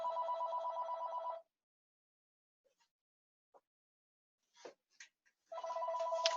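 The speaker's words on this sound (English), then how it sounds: "Get this phone." Telephone ringing in an indoor setting, a loud electronic ring at the start, then a pause filled with faint clicks and handling, before the ring resumes at the end.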